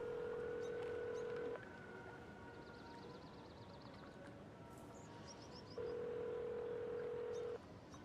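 Phone call ringing while waiting for pickup in the video game Alan Wake 2: two long, steady ring tones with a quiet pause between, faint against low background ambience.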